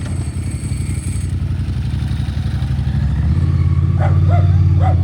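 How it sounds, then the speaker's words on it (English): A Ducati motorcycle idling at a cars-and-coffee meet at Henley Classics, its dry clutch rattling over a loud, throbbing low engine rumble that grows slightly heavier toward the end. "And you hear what I mean about that Ducati? Listen to the clutch."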